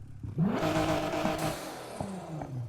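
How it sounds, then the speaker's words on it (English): A car engine in Need for Speed Heat revs up sharply toward maximum RPM, then eases off with turbo flutter chattering as the revs fall, loud and close. "you can hear the turbo fluttering, you can actually hear the engine like reaching max RPM"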